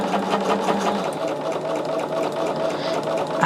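Sewing machine running steadily as it stitches nested quilt seams at a quarter-inch allowance, a close, continuous mechanical whir that holds at an even level throughout.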